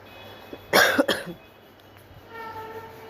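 A woman coughs in a short, harsh burst of two or three coughs close to the microphone, followed by quiet room tone.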